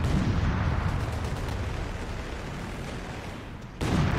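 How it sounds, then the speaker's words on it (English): Incoming artillery in Company of Heroes 3 during a North Africa desert campaign battle, with rumbling, distant-sounding shell blasts and gunfire, followed by a sharp, louder impact near the end and no voices. "Incoming artillery."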